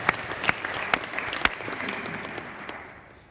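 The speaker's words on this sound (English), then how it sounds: "Everybody give Logan a round of applause." A group gives Logan a round of applause, a short burst of clapping with a few sharp, close claps standing out before it tapers away.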